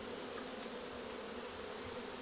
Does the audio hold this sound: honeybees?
yes